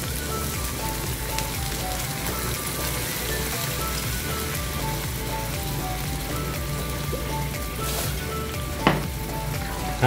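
Bangus curry simmering in a pan with milk just added, giving a steady, close sizzle and bubbling with faint stirring scrapes and one brief clink near the end, no voices.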